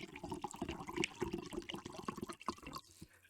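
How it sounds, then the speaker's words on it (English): A drink poured with the microphone placed right at the liquid, giving close, bubbly gurgles and splashes in an uneven rhythm that tapers off toward the end. "here's an ASMR drink pour"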